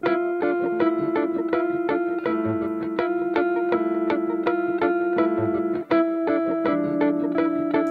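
Two percussion loops play together, clipped rhythmic hits layered over sustained tonal notes, steady and fairly loud, with one brief dip near the end.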